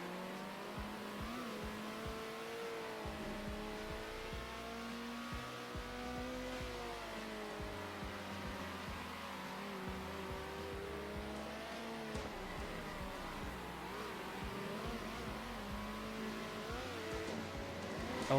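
Race cars in the video game Circuit Superstars, a continuous layered engine drone of several cars revving and shifting pitch as one spins sideways in the dirt, loud and steady throughout.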